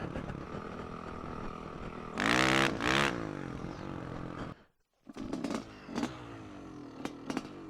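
A four-stroke dirt bike engine held up in a wheelie, loud and close, with a surge of rising revs, a brief throttle cut to near silence, then short blips of throttle.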